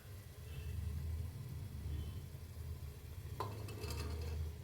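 Green peas being stirred in oil in a cooking pan, a steady scraping swirl over a low rumbling background with a brief clatter near the end, no voices.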